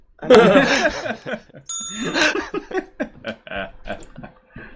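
A bicycle-style bell rung indoors in an apartment, bright metallic dings cutting through laughter and chatter, several quick rings near the middle amid loud, close voices and giggling.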